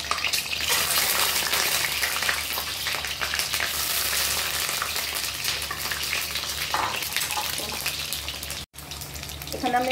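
Eggs frying in hot oil in a pan, a loud dense crackling sizzle that holds steady and eases slightly, cut by a brief silence near the end.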